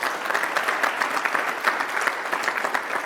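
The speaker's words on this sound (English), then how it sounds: "So give her a round of applause." Conference audience breaks into a round of applause, dense even clapping from a roomful of people, steady and sustained without voices.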